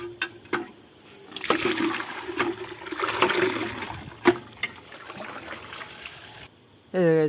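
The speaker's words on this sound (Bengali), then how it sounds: "ফার্স্টে এক বালতি জল লোড করে নিই নিজে ডিরেক্ট দিব একদম" A bucket of water is poured directly onto a small flowering plant outside a house, giving a splashing, trickling rush that swells and fades over several seconds, with scattered knocks and a brief louder gurgle at the end.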